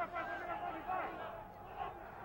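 A crowd at a Brazilian jiu-jitsu match in Brazil chants and cheers in a rhythmic, football-style roar, steady and somewhat distant, with voices talking over it.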